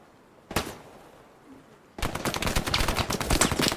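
Machine gun fire in the Hell Let Loose battlefield game: a single sharp shot, then from mid-clip a rapid sustained burst of automatic fire, loud and close.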